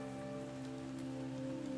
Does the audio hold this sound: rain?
yes